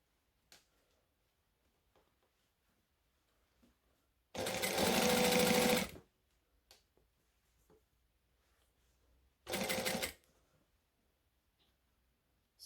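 A domestic sewing machine stitching and backstitching a seam on a McCall's M6614 hoodie, running in two short bursts of fast whirring with a sparse scatter of small clicks and handling noises before, between and after.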